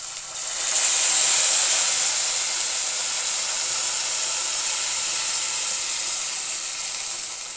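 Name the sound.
hot water added to a hot pan, hissing steam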